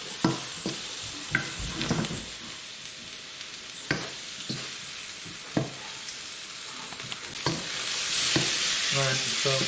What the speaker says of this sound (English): keep stirring with all the ingredients